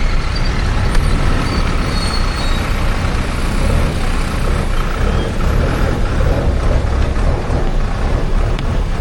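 A vehicle drives in through the entrance on arrival at Trimbakeshwar, its engine and road rumble loud and steady throughout with no pauses and no voices.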